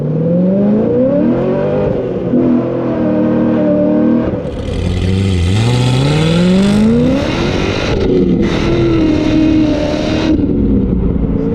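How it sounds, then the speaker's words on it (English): A modified 7.0L LS7 V8 in a 2006 Chevrolet Corvette Z06 making 661 rear-wheel horsepower roars loudly while accelerating on the road, its pitch climbing through gears with brief dips between shifts; no speech. "We'll let that nicely modified 7-liter come to life a little bit."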